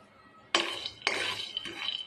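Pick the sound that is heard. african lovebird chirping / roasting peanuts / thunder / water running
roasting peanuts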